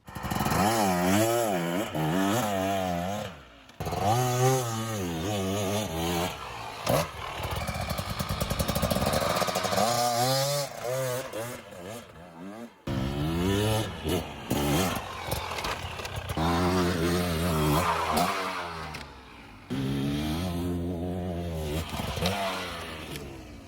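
A loud 2024 KTM 300 EXC two-stroke enduro motorcycle engine revs and roars repeatedly while riding off-road, pitch climbing and dropping with gear changes, with brief cuts between bursts, close by.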